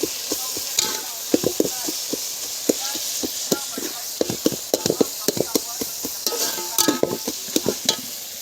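Tomatoes cooking in a pan, stirred with a spoon in repeated scraping strokes over a steady sizzle and frying hiss, with clustered bursts of stirring throughout and no talk.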